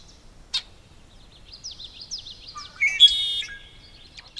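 A male red-winged blackbird sings in a cattail wetland in Washington: a brief sharp note, a run of thin whistled slurs, then a buzzy trilled phrase, moderately distant over quiet background.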